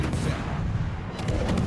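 Heavy naval gunfire from the Groningen destroyer in World of Warships rumbles loudly and continuously, the booming shots blurring together into a dense barrage throughout.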